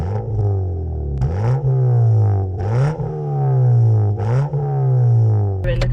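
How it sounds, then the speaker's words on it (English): Loud aftermarket exhaust on a Ford Fiesta Zetec S, revving repeatedly in close drive-by passes, with rising engine pitch on each rev and a steady throaty drone between them. "all the kind of clips we've got of the exhaust sounding from the rear"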